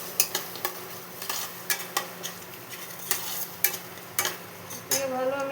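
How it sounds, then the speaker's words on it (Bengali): A spoon stirs whisked yogurt into a katla fish masala in a pan, giving a series of sharp scrapes and clinks against the pan over a low, steady sizzle. "টক দইটা দেওয়ার পর ভালো মতো নাড়তে হবে।"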